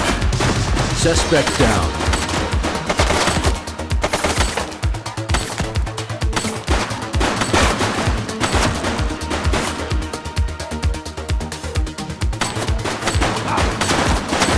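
Rapid bursts of gunfire crack through a shootout in the police video game The Precinct, dense and continuous over a music bed, with a brief spoken line partway through.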